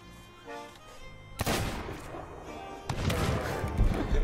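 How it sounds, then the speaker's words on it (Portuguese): Sea of Thieves Battle Royale gunfire: a sharp, loud shot with a broad crash, followed by a second burst of booming noise, after faint background game sounds. "Eu errei o tiro!"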